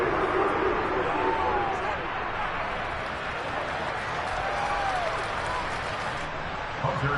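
Continuous roar of stadium crowd cheering and applause in a PS5 football game, loud and dense throughout, under a commentator's voice.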